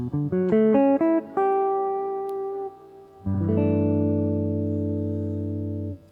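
Electric guitar plays a Lydian sharp five arpeggio, quick single notes climbing one after another, then a long held note fading, followed by a fuller sustained chord ringing out alone with light reverb.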